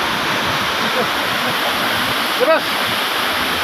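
Steady broadband rush of the Inggoi waterfall, loud and continuous close by, with a brief spoken word and a small voice sound partway through.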